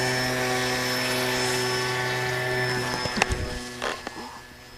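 A La-5FN 950 model airplane's engine and propeller run at full throttle for launch, giving a loud, steady, high-pitched buzzing drone. After about three seconds it fades, broken by several sharp knocks and thumps.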